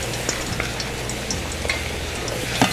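Maple sriracha syrup sizzling and bubbling in a hot saucepan, a constant crackling fry with occasional sharper pops and stirring sounds, close and fairly loud with no talking.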